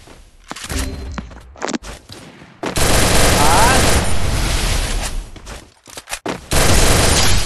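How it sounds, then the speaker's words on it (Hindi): Bursts of rapid gunfire from two players in a custom shooter game match, loud crackling volleys broken by brief gaps and thuds, with a voice talking over parts of it. "एकदम से ऐसे फायर किया दोनों ने"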